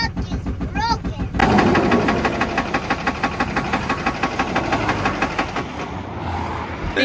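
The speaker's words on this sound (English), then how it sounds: "We lost a cylinder, so she's down a cylinder" A blown Duramax diesel pickup engine running down a cylinder, loud and close with a rough, rapid knocking chug that stays steady for several seconds after a brief burst of other noise.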